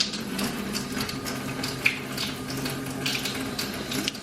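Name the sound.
water added to pan of reheating taco meat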